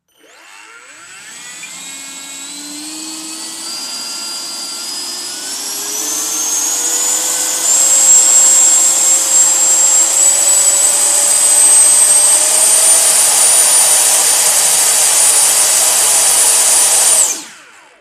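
FMS 70mm Super Scorpion model jet's electric ducted fan spooling up, a loud rising whine that climbs steadily in pitch, holds at a piercing peak, then cuts off sharply at the end.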